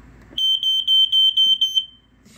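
A FireX FX1218 smoke alarm, an AC model here running on battery backup, sounds during a test: a loud, piercing high-pitched beeping in a rapid pulsing rhythm for about one and a half seconds, then stops.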